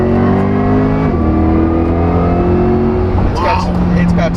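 A Chevrolet C8 Corvette E-Ray exhaust rises in pitch as the car accelerates, then drops after a shift and climbs again, loud and steady throughout, with people talking over it.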